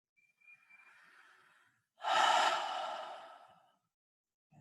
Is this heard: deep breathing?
yes